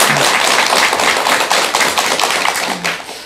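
An audience at a Korean Buddhist lecture gives loud, dense applause, many hands clapping steadily for the full few seconds with no talk over it.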